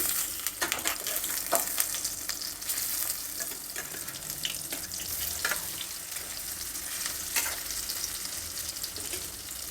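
Chickpea kebabs with garlic shallow-frying in oil in a pan, a steady close crackling sizzle with scattered sharper pops throughout, no voices.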